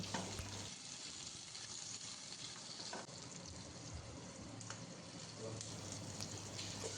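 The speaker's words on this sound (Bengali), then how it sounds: "এদিকে নিয়েছি ক্যাপসিকাম পেঁয়াজ টমেটো এইভাবে কেটে নিয়েছি এখন এইগুলোকেও আমি হালকা করে ভেজে নেব" Sliced capsicum, onion and tomato fry lightly in a pan, giving a soft, continuous sizzle with occasional stirring clicks, quiet and close.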